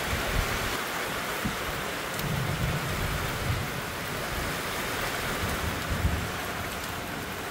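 Heavy rain pours down steadily and loudly throughout, a dense close hiss with low rumbling underneath and no voices.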